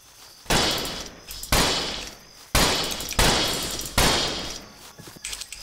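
Gunshots in the Roblox video game Westbound: five loud, sharp reports spaced roughly a second apart, each with a booming tail that fades before the next, heard alone without talk.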